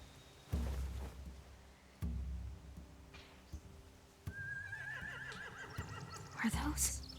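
Horses in The Walking Dead video game whinny and neigh repeatedly, with heavy thuds and hoof clatter between calls, fairly close and loud.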